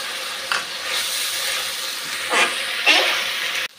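Onion paste and green chillies hit hot oil in a pan for a Bengali fish curry, giving a loud, steady sizzle with brief sharper bursts as they land.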